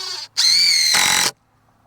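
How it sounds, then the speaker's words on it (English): Two short bursts of a power drill driving screws into wood, the second louder and higher, then stopping abruptly into quiet. "Throw a couple more screws in it."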